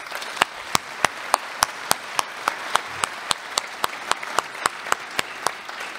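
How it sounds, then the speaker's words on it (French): An audience at a 2016 New Year's wishes ceremony in Fourmies claps in unison, about twenty sharp, evenly spaced claps at a brisk steady beat that fill a hall over a low murmur. "Je vais vous demander de les applaudir tous."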